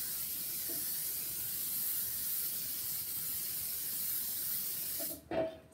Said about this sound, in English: We're going to do a little spray, spray.